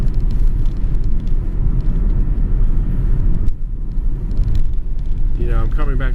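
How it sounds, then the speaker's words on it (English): An old BMW E36 325td diesel with a steady, low rumbling drone and road noise heard from inside the car, with a voice speaking near the end. "There seems to be a lot of noise with an old style BMW diesel."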